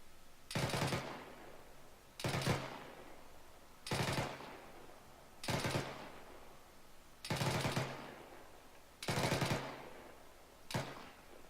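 An automatic rifle fired in short controlled bursts through a magazine during autorifleman training, about seven sharp, evenly spaced bursts, each roughly half a second long, loud and close with brief echo between them.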